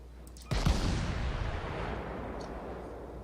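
Naval guns on a Russian cruiser fire in the video game World of Warships: one sudden heavy boom that rolls out into a long, slowly fading rumble, with a faint distant thud near the end.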